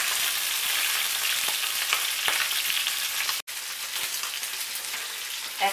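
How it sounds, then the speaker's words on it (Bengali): Tangra fish frying in hot oil for a Bengali spicy fish curry, a steady dense sizzle and crackle with no talk, broken by one brief silent gap partway through. "মাছগুলোকে আমি ভেজে নেব।"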